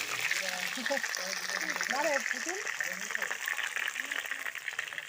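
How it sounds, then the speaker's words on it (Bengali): Potatoes fry in a blackened wok, a steady hissing sizzle running throughout, while a person talks over it. "তো মাংসের জন্য আলু ভেজে নিচ্ছি"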